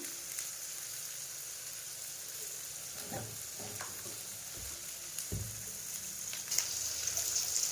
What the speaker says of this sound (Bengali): চাউমিনটাকে দিয়ে দিলাম সিদ্ধ হতে